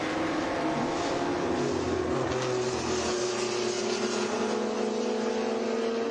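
A lightweight BMW M3 race car chases a Ginetta at a vintage racing enduro, with engine drones rising in pitch as they accelerate past at mid distance over steady track noise.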